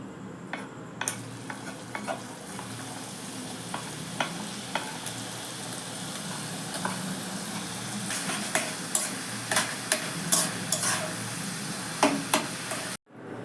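Kucho nimki, small crisp fried dough pieces, sizzle steadily in hot oil, with a dense continuous crackle and scattered sharp pops and stirring clicks that grow busier toward the end, alone without talk.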